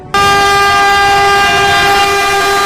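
An Indian Railways train sounds a loud, sustained horn that starts abruptly and holds a steady tone, close and dominant, with the rumble of rolling stock beneath.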